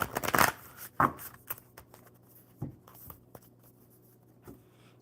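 A deck of playing cards is shuffled in a few quick riffling bursts, the loudest near the start, followed by softer scattered card flicks and taps, close and alone in a quiet room.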